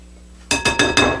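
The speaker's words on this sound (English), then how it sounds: "whisk these up nice so they're all evenly blended" A whisk strikes a bowl four times in quick, even clinks while egg yolks are beaten for pâte à choux, loud and close after a quiet start.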